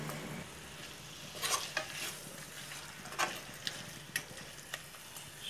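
Fried chicken being stirred into masala in a hot pan for biryani, a soft sizzle running under intermittent scrapes and clinks of the spoon against the pan, fairly quiet and close, no talking.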